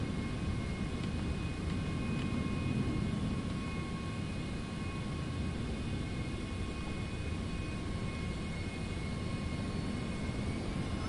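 Steady, even engine whine and broadband rumble of a Citation X business jet taxiing in Microsoft Flight Simulator 2024 on PS5, continuous and unchanging with faint tonal hums throughout, no talking.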